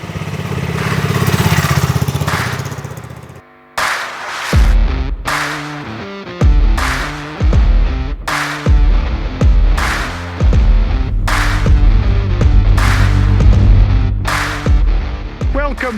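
A BSA Goldstar classic motorcycle engine under way, revving in repeated loud surges that cut off sharply between gear changes, close to the microphone with heavy throbbing low-end roar.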